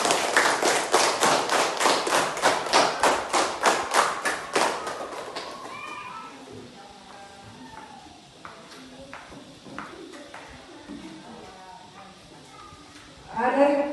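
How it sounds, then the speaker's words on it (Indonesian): A classroom of students claps in a loud, rhythmic burst of applause for a group for about five seconds, then fades into quieter murmuring and shuffling, with a brief noisy burst near the end. "Tepuk tangan untuk kelompok 3."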